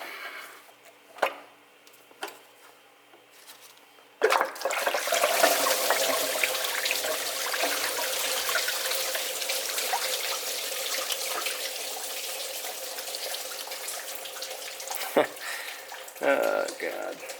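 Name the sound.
coolant draining from a removed water pump into a pan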